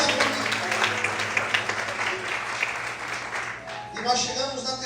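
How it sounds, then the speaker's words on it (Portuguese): A church congregation applauds during a Portuguese-language sermon, giving a dense, close burst of clapping that tapers slightly before a brief swell at the end. "Aplauda a glória ao Senhor"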